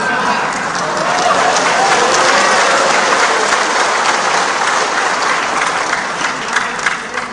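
Sustained applause from an audience, a dense wash of many hands clapping steadily and loudly for several seconds.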